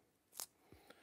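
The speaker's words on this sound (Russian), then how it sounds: "я посыплю лапшу зеленым луком. Я сделаю это прямо ножницами" Scissors snip green onion over a Sichuan-style noodle soup: one crisp, close cut followed by a couple of softer snips, quiet and with no talk.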